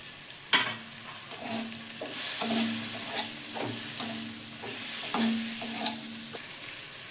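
Tender bottle gourd stems frying in a pan for a vegetarian dal, with a soft, steady sizzle broken by a few sharp stirring scrapes and clacks, no voices.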